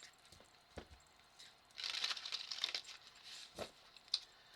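Tarot cards are shuffled by hand during a reading, giving soft papery riffling and crinkling bursts with a few sharp taps, close and fairly quiet, with no talking.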